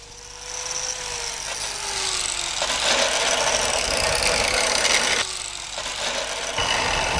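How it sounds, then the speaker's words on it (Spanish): A portable grinder bevels the edge of a horseshoe at a farrier's work, a steady loud abrasive whine and rasp that runs continuously with brief dips in pitch as the disc bites the steel. "el herrador les hace el biselado con una esmeril portátil"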